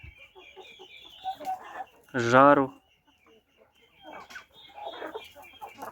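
Chickens cluck and call in a farmyard shared with turkeys, short scattered vocalizations with one louder drawn-out squawk midway, while a person speaks briefly nearby.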